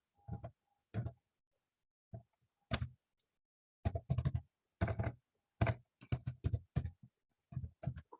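Keys on a computer keyboard clack in short, irregular bursts separated by pauses, close and fairly quiet, during a statistics lesson.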